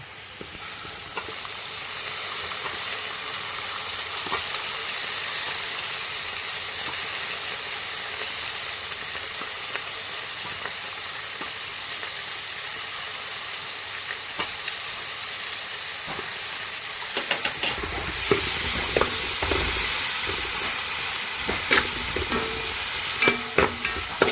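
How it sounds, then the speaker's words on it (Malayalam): Onions sautéing with freshly added chopped tomato in a pan give a continuous loud hiss and sizzle, growing busier and rougher near the end with intermittent stirring scrapes, for a Thattukada-style boti fry. "നമ്മുടെ സവോള നന്നായിട്ട് വഴന്നിട്ടുണ്ട്. അതിലേക്ക് നമ്മൾ ഒരു തക്കാളി ചെറുതാക്കി അരിഞ്ഞതും കൂടെ ഒന്ന് ചേർത്ത് കൊടുക്കാം."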